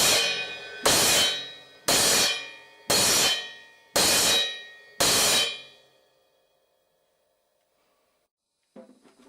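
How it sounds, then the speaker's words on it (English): Five evenly spaced choked cymbal crashes, each loud and cut off after about a second, then near silence. "If you were wanting to choke this cymbal, this is how it would sound."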